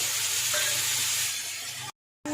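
Mustard seeds and mango pieces frying in hot oil in a kadai, giving a steady bright sizzle and hiss that cuts off abruptly near the end.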